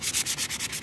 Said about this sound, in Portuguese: Vou lixar esse pedaço aqui e mostrar pra vocês.